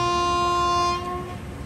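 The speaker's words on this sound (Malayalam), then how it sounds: "അതാ നമ്മുടെ ട്രെയിൻ വിടുകയായി" A sleeper-class train on the Jhansi to Nagpur route sounds a loud, sustained horn nearby for about a second, then the horn fades out into a low rolling rumble.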